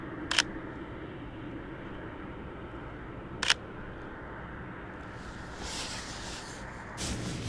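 Two sharp, crisp camera shutter clicks from a single-lens reflex camera, spaced about three seconds apart over quiet outdoor ambience beside a parked Porsche 964 RS N-GT, followed by soft rustling handling noises.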